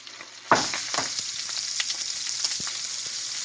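Chicken, shrimp and mixed vegetables stir-frying in a hot pan, with a loud burst of sizzling as the food goes in. Stirring scrapes and crackles follow as the sizzle settles to a steady hiss.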